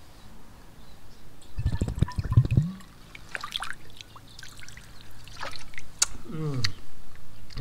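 Water is scooped and poured while being collected from a mountain tarn, with a short burst of splashing and trickling near the start and a softer slosh later, among quiet outdoor ambience.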